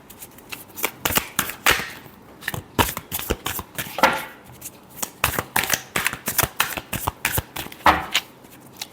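Tarot cards being shuffled by hand: a quick run of crisp riffling flutters and slaps, close and clear, repeating in uneven bursts with no speech.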